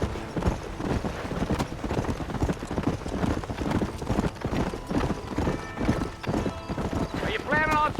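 Horse hooves clip-clop at a galloping pace in the Western video game Red Dead Redemption, steady and close, with a whinny near the end and a voice speaking over the hoofbeats.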